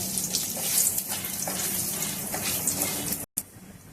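Bay leaves and dried red chillies sizzle in hot oil after mustard seeds, giving a loud, steady hiss with soft crackles, briefly cut off near the end and then resuming.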